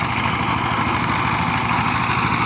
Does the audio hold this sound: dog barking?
no